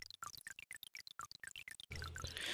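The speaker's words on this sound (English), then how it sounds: "some random values of pitch helps me to make sound" Water-like synthesized sound made in Bitwig Studio from rapid notes with random pitch: a quick stream of bright, bubbly droplet blips, close and alone, ending in a denser wash of sound.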